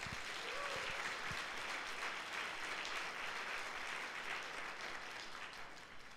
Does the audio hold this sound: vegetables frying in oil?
no